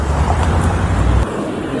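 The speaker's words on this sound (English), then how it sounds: "The traffic is crazy over here." Steady road traffic rolls past beside a freeway near Marshall, Texas, a dense low rumble of cars and trucks that drops away abruptly partway through, leaving a thinner, quieter wash of distant noise.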